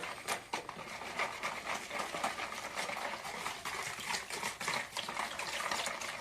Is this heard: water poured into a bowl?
yes